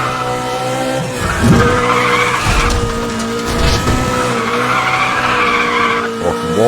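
Tires squeal in a long sustained skid as a car drifts through a mountain serpentine corner in Need for Speed: The Run, loud and close over a steady engine drone with shifting pitch.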